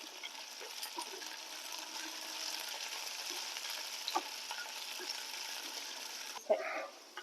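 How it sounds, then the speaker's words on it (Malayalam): Onions and curry leaves fry in a pan with a soft, steady crackle and sizzle, a few faint stirring knocks, and one brief louder clatter near the end. "അപ്പം നമ്മൾ കറിവേപ്പിലയും കൂടെ അതിൻ്റെ അകത്തോട്ട് ഇട്ട് കൊടുക്കും ഇതോ ഒന്ന് മൊരിയണം"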